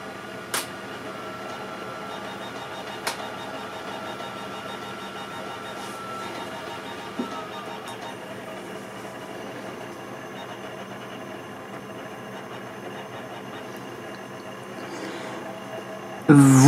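A Mac's optical disc drive whirs steadily during boot, a low constant mechanical hum broken by a few sharp clicks, with a louder bump right at the end.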